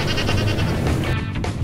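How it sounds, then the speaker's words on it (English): A goat bleats once in a drawn-out, wavering cry close by, heard over a low rumbling background with no talking. "Goat."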